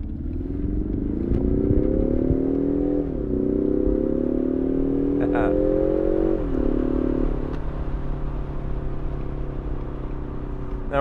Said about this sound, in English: now we can really enjoy the sounds this car makes.